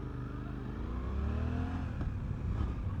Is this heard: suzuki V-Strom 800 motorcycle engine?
yes